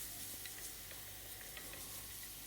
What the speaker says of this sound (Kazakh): Ендігі саңырау құлақты қуырған кезде мен осыдан қалған майға қуыратын боламын.